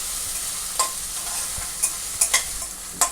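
Crushed ginger and garlic fry in a pan for a crab roast, giving a soft steady sizzle broken by a few sharp stirring scrapes and clinks, no voices.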